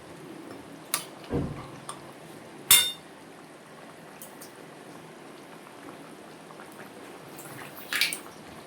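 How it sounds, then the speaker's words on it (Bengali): Rohu fish pieces go one by one into a simmering curry, making a few scattered splashes and clinks over a soft, steady bubbling, with long quiet gaps between drops. "এখন আমি আগে মাছের মাথাটা দেব এরপরে একে একে মাছগুলো আমি দিয়ে দিলাম"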